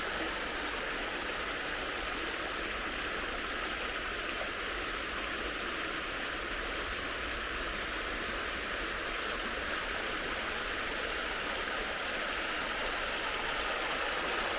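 Water from a waterfall and stream rushes in a steady, dense broadband hiss that holds even for the whole stretch, close and fairly loud, with no voices over it.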